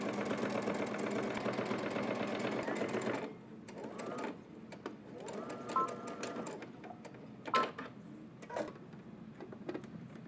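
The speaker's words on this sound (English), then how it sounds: "let's head over to the machine and we're going to top stitch this down" A sewing machine runs fast and steady while top stitching a zipper hoodie seam with a quarter-inch allowance, then slows into shorter bursts of stitching with pauses and light handling noises between.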